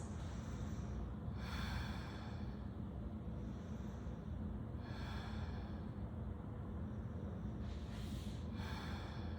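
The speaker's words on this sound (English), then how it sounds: "Stay there and hold 3 deep breaths" Three slow, deep breaths during a workout stretch rise and fade as airy swells spaced a few seconds apart, heard fairly close over a steady low background rumble.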